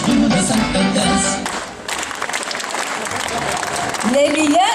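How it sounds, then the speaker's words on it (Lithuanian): Audience applause after a folk song performance at an outdoor festival in Druskininkai, Lithuania: a loud, dense wash of clapping that follows singing and runs steadily to the end, with a voice speaking over it near the close. "Ačiū Jums už plojimus, mėly žiūrovai."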